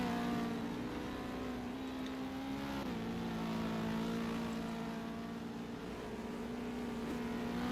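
A racing car powers out of a chicane at a GTI event, its engine holding a loud, steady droning note that dips briefly and then climbs again as it accelerates.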